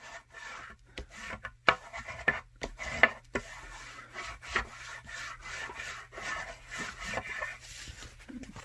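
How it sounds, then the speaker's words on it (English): Paper glued onto a book cover being burnished by hand, a dry rubbing and rasping that comes in repeated strokes, close and moderately quiet, with no talking. "Flip it over and do the same thing, burnish it good."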